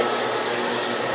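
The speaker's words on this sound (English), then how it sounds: "that stuff's been sitting in the ultrasonic for 10 minutes. So let's shut that off" An ultrasonic cleaner running in a workshop during an old G.E. motor repair gives a loud, steady broadband hiss-like drone with no variation over its brief span.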